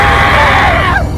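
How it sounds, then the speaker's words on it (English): A loud, sustained human scream that bends downward in pitch before cutting off, sounding like a group fleeing in fright. "We all ran off screaming."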